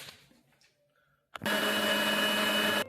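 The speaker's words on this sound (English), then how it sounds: "And then the easiest bit, you grind it." An electric grinder blitzes a cinnamon and almond mixture, switching on abruptly after a quiet pause and holding a loud, steady high whir for about a second and a half before cutting off.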